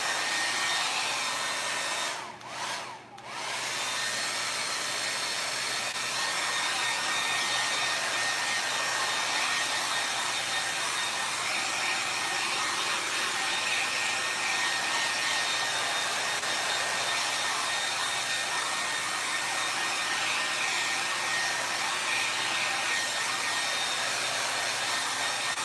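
A hair dryer blows steadily to dry black paint on an abstract painting in a basement, a loud, continuous whir that briefly cuts out early on, then runs on unbroken.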